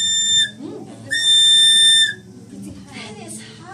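Whistle or pipe blown with ordinary air in a sound lab, two shrill sustained high tones, the second longer, sounding near and loud, with people talking in between and afterwards.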